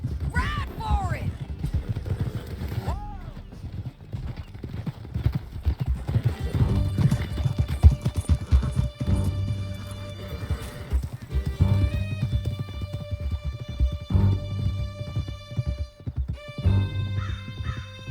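Horses gallop with steady rapid clip-clop hoofbeats in Red Dead Redemption 2 during a canyon escape chase, with occasional whinnies, game music and voices over the top.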